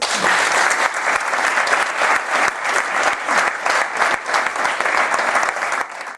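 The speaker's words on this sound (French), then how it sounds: "Veuillez applaudir Madame Judith Cartron" Dense, sustained applause from an audience welcoming Judith Cartron, the first woman to take over the Cartron company, as she steps up to host a women-in-wine-trades event at a lycée in Auxerre; steady, close clapping that tapers off at the end.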